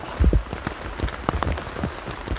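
Rain falls through a pine forest in the mountains during a pine mushroom harvest, with steady soft hiss and scattered close drops pattering irregularly on leaves and ground, no voices.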